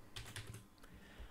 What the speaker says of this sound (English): all I have to do is click in this text box and type it in